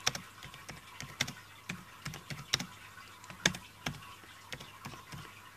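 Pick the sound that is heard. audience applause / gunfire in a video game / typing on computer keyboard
typing on computer keyboard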